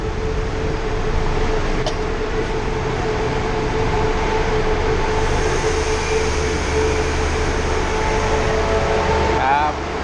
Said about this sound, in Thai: ครับมาถึงสถานีรถไฟนครสวรรค์แล้วครับ